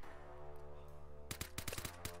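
Gunfire in the shooter game Vigor: a rapid cluster of sharp shots, several in quick succession then one more, cutting over a steady low in-game hum.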